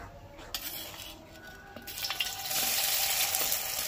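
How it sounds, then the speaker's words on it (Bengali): Egg-and-cornflour coated soybeans dropped into hot oil, a few clinks and pan noises first, then a bright, steady sizzling hiss of frying that swells and holds, close by and with no talking. "তেলটা দেখো পুরোপুরি গরম হয়ে গেছে, এবার সয়াবিনগুলোকে এক এক করে দিয়ে দেবো"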